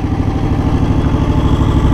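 A John Deere X724 four-wheel-steer garden tractor with a 54-inch snow blower attached idles close by, a loud steady low engine rumble with a slight rhythmic clatter.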